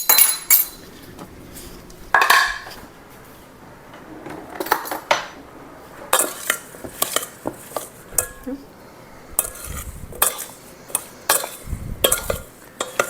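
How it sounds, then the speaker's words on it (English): A spoon scrapes and clinks against a bowl while blueberry galette filling is mixed with lemon juice, making loud, irregular clattering strokes over several seconds with no talk. "Okay, now we're going to mix this up."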